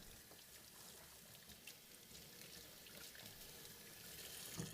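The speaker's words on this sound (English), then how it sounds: "I'm going to give it a rinse" Water running from a tap into a sink while a part is rinsed, a faint steady splashing hiss with no pauses.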